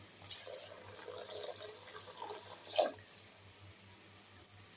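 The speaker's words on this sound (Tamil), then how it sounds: "அது கூட 2 டம்ளர் தண்ணி ஆட் பண்ணிக்கலாம்." Water poured into a pan of milk for making pongal, a soft, faint trickle and splash in a quiet kitchen.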